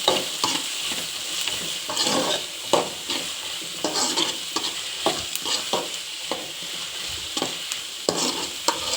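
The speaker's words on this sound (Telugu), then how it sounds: "ఆనియన్స్ వేసి బాగా గోల్డెన్ కలర్ వచ్చేదాకా వేయించుకుందాం." Chopped onions sizzle and fry in a pan for egg bhurji, with steady broadband hiss broken by repeated scraping stirs of a utensil at an irregular rhythm, close and fairly loud, no talking.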